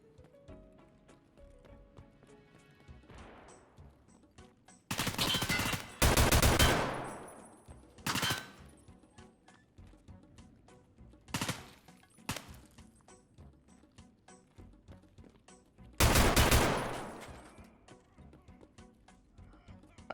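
Sharp, loud gunshots in the video game Escape from Tarkov, a single report followed by a tight double burst and later isolated cracks, each ringing out over quiet ambience and footsteps.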